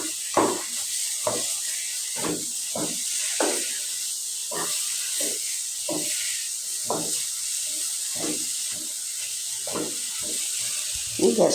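Chickpea halwa is stirred in a pan over low gas, giving a faint continuous hiss broken by regular soft scrapes of the spoon, about one each second, with no voices.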